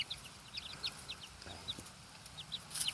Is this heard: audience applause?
no